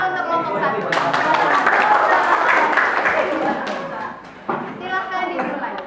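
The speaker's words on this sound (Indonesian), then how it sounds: "Kasih aplaus dulu untuk kelompok" A classroom group of students claps for a group at the start of a school drama performance; dense clapping builds and fades, then a brief burst returns, with voices mixed in.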